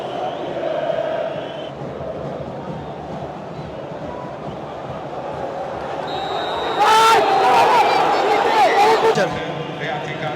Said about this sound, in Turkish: Mert Hakan Yandaş'a karşı çok büyük bir tezahürat var